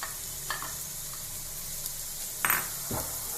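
Beans, carrot and cabbage stir-frying over full flame for fried rice, a continuous bright sizzle broken by scraping stirs and a couple of sharper pan clatters.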